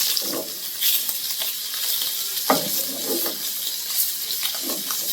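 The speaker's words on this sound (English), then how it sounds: "Oh, you're probably getting a sear already" Scallops sear in a very hot pan with a bright, hissing sizzle, marked by scattered sharper spits and crackles over a steady wash of noise.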